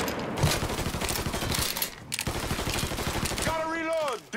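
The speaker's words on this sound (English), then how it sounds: "He's shooting the shit out of me." Rapid gunfire from a Mafia 3 shootout rattles in dense bursts across most of the moment, overlapping shouted voices, before a pause and a rising-falling whine near the end.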